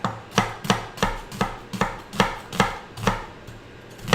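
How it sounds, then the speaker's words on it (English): A knife cuts an onion on a board in about a dozen sharp, evenly spaced chops, close and clear with nothing else heard. "Glad onions are fast to cut."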